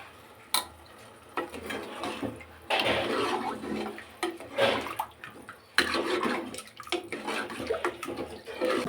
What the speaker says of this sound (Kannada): 2 ಲೋಟ ನೀರು ಹುಯ್ತಾ ಇದ್ದೀನಿ.